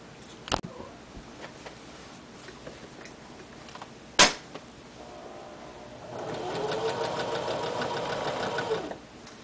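A sewing machine stitches a patch onto denim jeans around the pocket. A couple of sharp knocks come first, then a steady, rapid, close stitching run lasts about three seconds.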